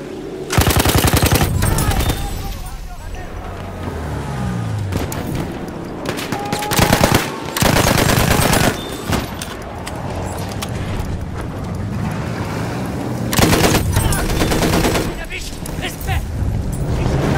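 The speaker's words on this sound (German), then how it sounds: "Ein Maschinengewehr!" Machine gun fire in the World War I shooter Battlefield 1, loud rapid bursts repeating through the scene amid other gunshots and game sounds, with voices talking over it.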